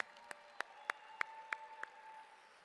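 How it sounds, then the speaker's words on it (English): Audience claps at an official opening ceremony for a language awareness week, a handful of sharp, evenly spaced claps ringing out in a reverberant hall before fading away, with a steady tone lingering beneath. "Let's give her another round of applause,"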